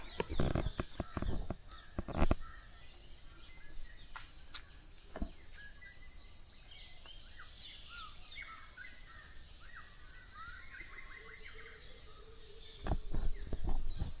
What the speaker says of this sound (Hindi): कितने ज़्यादा यहाँ पर चिड़ियों का आवाज़ आता है, जानवरों का।